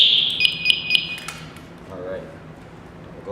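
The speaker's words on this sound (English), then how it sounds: "We also want to check to make sure our manual alarm works as well." A manual alarm on firefighter turnout gear sounds a few sharp, high repeating beeps, then stops, followed by quieter handling clatter nearby.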